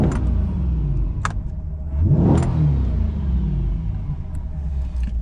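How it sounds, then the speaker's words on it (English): A Chevrolet C8 Corvette engine rumbles close by and revs once in a quick rising and falling surge, then settles back to a deep, steady idle. "I love to rev this car, right?"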